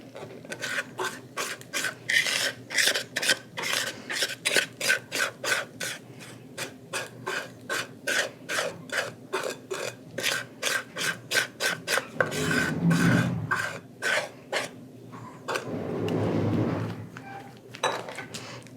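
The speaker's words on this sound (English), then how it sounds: "I'm just using the back of a big wooden spoon and really pressing this" The back of a big wooden spoon is pressed and scraped down into a bread pudding mixture, giving a long run of rhythmic rasping strokes, close and fairly loud, slowing near the end with a couple of softer smears.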